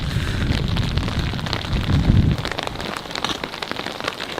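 Rain pours steadily in Kingdom Hearts III, a dense loud hiss of drops on surfaces with a deep rumbling undertone that fades after a couple of seconds, leaving lighter pattering.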